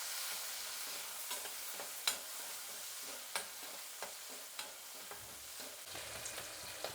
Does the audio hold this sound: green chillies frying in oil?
yes